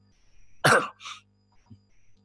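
A single loud, harsh cough bursts out close by, followed by a softer second cough and a faint throat sound in an otherwise quiet room.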